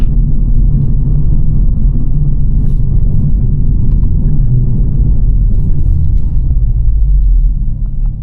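A 2024 Renault Megane RS 300 Trophy, 300 hp, driven on the road, its engine giving a loud, steady low rumble with road noise throughout from inside the cabin, with no voices.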